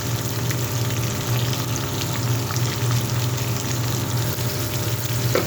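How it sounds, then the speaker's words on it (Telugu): Salted bitter gourd cooks in a pan for curry, giving a steady, loud, continuous sizzle and hiss close up with no pauses or talking. "సాల్ట్ వేస్తున్నాను కాకరకాయ మగ్గుతుంది"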